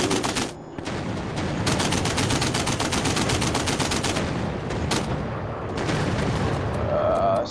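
World War I fighter plane machine guns firing in the VR game Warplanes WW1 Fighters, a loud, dense stream of rapid shots over engine drone, pausing briefly before firing again.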